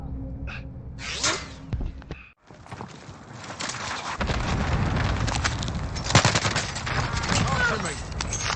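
Call of Duty Warzone gunfire from an XM4 assault rifle and other weapons: loud, rapid bursts and sustained fusillades with impacts, briefly dropping out before the firing resumes more densely.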